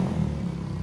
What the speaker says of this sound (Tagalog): Bibirit lang ako isang beses, testing lang.